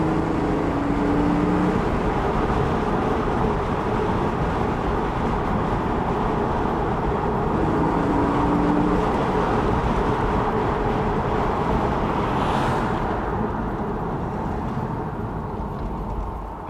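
A 2010 Porsche Boxster S in GT Silver Metallic driven hard, its steady broadband engine and road roar holding loud and continuous throughout, easing slightly toward the end, with no talking.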